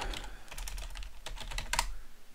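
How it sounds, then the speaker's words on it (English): Someone types a password on a computer keyboard, a quick irregular run of light clicking keystrokes close up, with no talking. "Typing in the password wrong."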